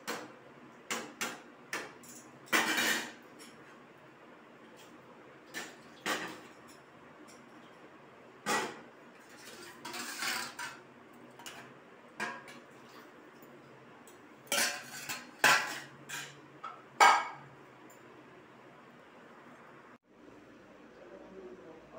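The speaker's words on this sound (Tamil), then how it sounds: "நல்லா கிண்டணும்" Coconut milk tomato rice being stirred in a pot, scattered metallic clinks and scrapes of a spoon against the pot at irregular intervals, fairly quiet between strokes.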